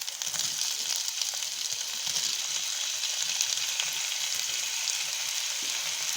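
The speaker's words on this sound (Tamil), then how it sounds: "இப்போ கட் பண்ணி வச்சிருக்க தக்காளி ஆட் பண்ணிக்கலாம்." Chopped tomatoes sizzle and fry steadily in a pan over ginger-garlic paste for a Tamil drumstick masala, a close, continuous hiss with faint stirring, no talk.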